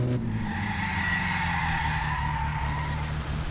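A car skids through a handbrake turn in My Summer Car, with tires squealing in a wavering tone over a steady engine drone, loud and close for a few seconds.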